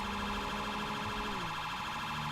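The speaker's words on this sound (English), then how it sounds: "Change the siren tones." An emergency vehicle siren on a blue light run switching between tones, a steady wailing pitch that slides down and settles into a new pattern, heard alone over road noise.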